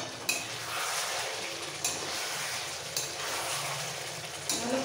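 Chicken curry stirred in a pan, with a steady frying sizzle and a few sharp clinks of a utensil against the pan, close up, no talk.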